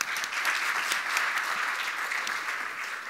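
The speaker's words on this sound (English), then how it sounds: "So just a round of applause for our 3 panelists here this morning." An audience applauds steadily at a hospitality industry panel discussion, a dense patter of clapping that holds at an even level throughout.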